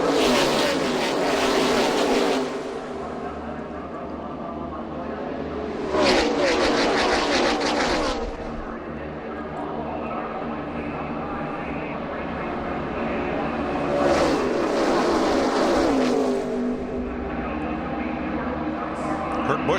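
NASCAR stock cars at Daytona thundering past at full throttle on a green-flag restart, a continuous loud engine roar that swells repeatedly as packs pass, with a commentator talking over it.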